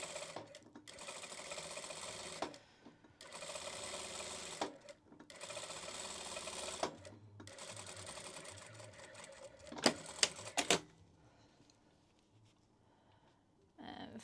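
A sewing machine stitching fabric for a fabric box runs in several steady, rapid-whirring bursts separated by short pauses, close and clear, with a few sharp clicks and faint talk as it stops.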